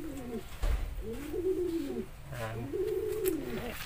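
A grizzle racing pigeon of Janssen Van den Broek and Taiwan bloodlines coos in soft, rounded phrases, two or three low warbling calls close by with faint background noise.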